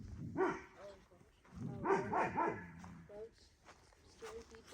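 A livestock guardian dog barks repeatedly at a moderate distance toward a road, sharp bow-wow barks coming in short clusters.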